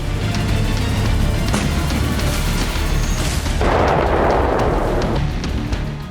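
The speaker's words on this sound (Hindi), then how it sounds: "फ्रंट लाइन पर बीएमपी लगाकर लगातार फायरिंग की जा रही है" A BMP infantry fighting vehicle fires at the front line, with dull booming shots and sharp cracks over a constant loud rumble, and a short hissing burst partway through.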